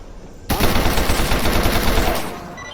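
Automatic gunfire in the video game S.T.A.L.K.E.R. Anomaly, a loud sustained burst of rapid shots that starts abruptly and rattles on for about two seconds before tapering into its echo.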